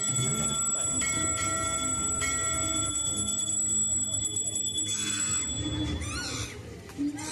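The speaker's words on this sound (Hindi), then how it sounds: "सभी घंटियां एक साथ बजने लगती हैं" Many bells ring together in a jangling, sustained chorus of metallic tones that carry on and then fade, with a brief sharp knock near the end.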